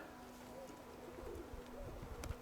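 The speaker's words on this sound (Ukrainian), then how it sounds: "Но голуби літали, попадали." Pigeons coo softly at an outdoor loft where the birds fly and land, low throaty calls that are fairly faint, with a breezy background and a brief burst of noise near the end.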